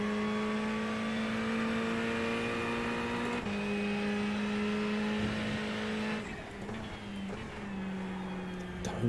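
Ferrari race car in iRacing revs hard and continuously, a loud sustained engine drone rising and dropping through gear changes, with a brief dip and rougher tone near the end.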